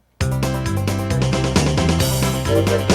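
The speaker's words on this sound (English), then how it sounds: "You're familiar with the train rhythm." Lowrey SU series organ playing its built-in train rhythm, a steady chugging accompaniment with bass and chords that starts abruptly and runs loud and continuous for a few seconds.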